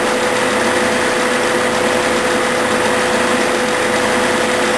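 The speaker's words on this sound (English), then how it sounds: "Now I'm drilling it quarter inch." A drill bores a quarter-inch hole steadily through metal with cutting fluid, a continuous even motor whine with no breaks, fairly loud and close.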